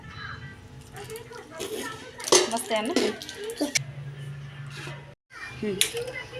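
White chocolate whisked into cream in a bowl at home, with quick clinking and scraping of utensil against bowl in bursts, close by, while someone talks and children are heard.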